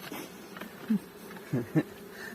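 Honeybees buzzing around an open hive during a spring inspection at an apiary, a soft steady hum with a few louder passes of single bees flying close by.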